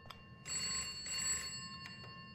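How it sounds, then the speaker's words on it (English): An old-style telephone in the video game Bokkie rings in a steady bell trill that lasts about a second. A fainter, shorter ring follows after it, heard faintly with no talking. "if this phone doesn't shut up first"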